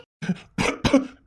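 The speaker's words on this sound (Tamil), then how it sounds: "நானா இருமுனே." A person coughs three times in close succession, sharp and nearby, each cough a short harsh burst with brief pauses between, followed by the start of a fourth.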